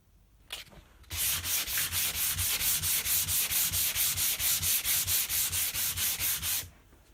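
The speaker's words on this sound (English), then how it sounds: "We'll just give that a light going over with the sandpaper," Sandpaper rubbed by hand over a bamboo chopping board made from a recycled worktop, a steady series of quick, even back-and-forth rasping strokes, close and loud for several seconds after a brief pause.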